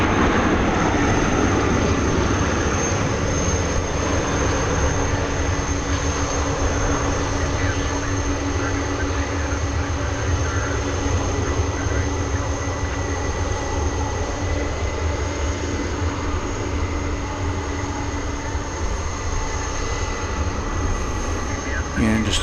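An MD-11 airliner bound for Louisville takes off from the west side at DFW Airport, a loud continuous jet roar with a steady high whine that holds throughout, while a voice talks over it.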